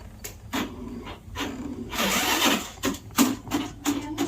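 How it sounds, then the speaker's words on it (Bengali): A motorbike self-starter cranks in repeated short whirring bursts without the engine catching, near and fairly loud, the attempts coming in quick uneven succession. "এই দেখো এতবার স্টার্ট দিচ্ছি কিন্তু স্টার্ট হচ্ছে না"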